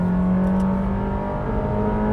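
Honda Fit engine in sport mode revving high, a steady buzzing drone with a held tone that shifts partway through, loud and close with no talk.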